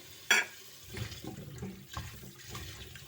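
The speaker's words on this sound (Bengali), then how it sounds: "পটলগুলো আগে ভালো করে পরিষ্কার করে ধুয়ে দিতে হবে" Pointed gourds are washed under a running kitchen tap, with a sharp splash at the start and then a steady, soft stream of water with faint handling noises.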